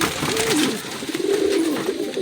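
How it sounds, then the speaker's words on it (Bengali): A male and female pair of Rampuri pigeons coo softly and repeatedly in a low, wavering tone, fairly close, with no talking. "দেখুন একদম অরিজিনাল পায়রা আছে দুটো।"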